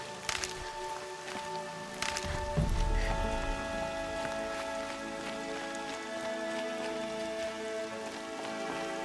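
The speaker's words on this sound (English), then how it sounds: "More rain. My boots will get damp." Rain falls in the video game Horizon Zero Dawn, a steady patter of drops spread evenly throughout, with a few louder splashes early on and a soft musical tone underneath.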